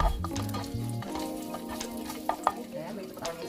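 Ginger hits a hot pan on high heat for a Mediterranean seafood dish, sizzling and frying steadily close by, with scraping stirs and a few sharp utensil clacks.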